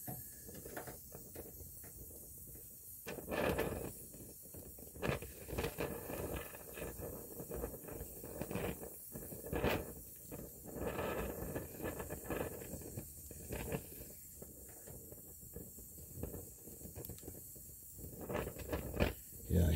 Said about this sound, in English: here I'm welding a 16 gauge to 1/8 inch plate